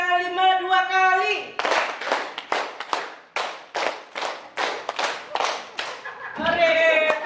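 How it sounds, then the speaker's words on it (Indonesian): Rhythmic hand clapping from a group during a teachers' training session, about ten sharp claps in two quick runs of five, loud and close, with a speaking voice before and after. "tepuk tangan 5 2 kali."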